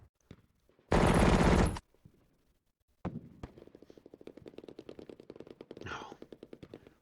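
Machine-gun fire from the Lock and Load Tactical Digital tactical wargame: a sustained loud burst, a pause, then a long run of rapid, evenly spaced shots with dense, crackling reports.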